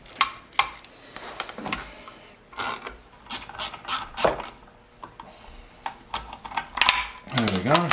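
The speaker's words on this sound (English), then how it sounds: "nice deep socket to pull it out" Deep socket ratchet wrench working a bolt out of a Mercedes 6.3 engine, bursts of rapid close ratcheting clicks with short pauses and metallic clatter, a voice briefly at the end.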